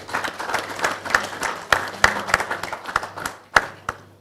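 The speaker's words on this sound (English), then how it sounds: "So you deserve a round of applause." An audience at a media company showcase event applauds, a steady wash of many hands clapping with sharper nearby claps standing out, fairly loud.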